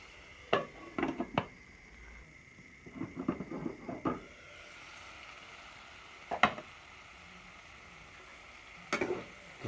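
Spices sizzle steadily in hot oil while beef curry with pointed gourd cooks, broken by several sharp clatters of stirring in bursts and a couple of isolated clanks, with no talking.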